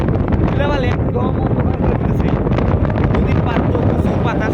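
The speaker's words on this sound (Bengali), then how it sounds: "নদীর পার তো প্রচুর বাতাস, সাথে প্রচুর পরিমাণ ঢেউ" Strong, constant wind buffets the microphone on the Padma riverbank with waves nearby, a loud broadband roar under speech throughout.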